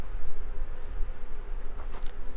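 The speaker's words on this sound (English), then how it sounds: "The bees are in here in the cluster, and the queen is in there." Honey bees in a cluster inside an Apimaye hive give off a steady, close, droning buzz that holds throughout, with a couple of faint higher clicks near the end.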